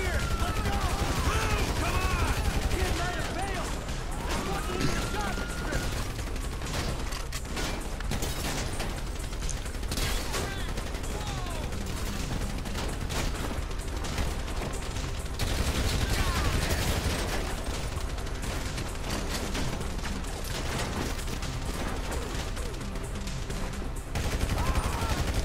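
Dense, continuous gunfire fills a first-person Grand Theft Auto 5 session, with loud overlapping shots and bursts running nearly the whole time under occasional speech.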